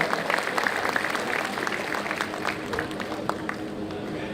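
An audience at a community fundraising gathering in Leicester applauds, a continuous wash of clapping at moderate distance with crowd murmur mixed in.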